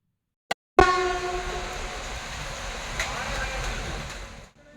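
A train at a railway station on the way to Guruvayur, with a loud sudden onset that settles into a steady rumbling roar of a passing or arriving train, horn-like tones early on, continuing for several seconds before cutting off.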